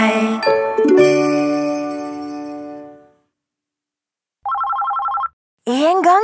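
A children's song about a telephone has bright music at first, then falls silent before a short, trilling telephone ring plays alone. A sung voice comes in right after.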